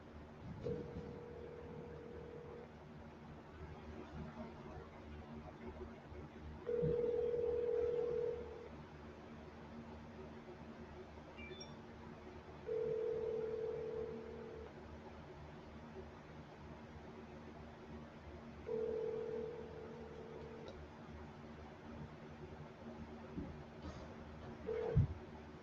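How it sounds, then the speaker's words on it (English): Outgoing telephone call ringback, four evenly spaced electronic ring tones, each lasting about a second and a half and separated by several seconds of quiet line hiss, heard faintly over a phone line. "let me know if you guys can hear the phone and everything like that"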